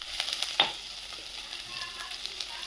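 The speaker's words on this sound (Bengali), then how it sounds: "মশলাটা আমি এঁচড়ে দেবো এবার মশলাটাকে কষিয়ে নিই" Spice paste sautéing with young jackfruit in a pan, a soft steady sizzle with one sharp scrape or clatter early on, then continuous low frying crackle.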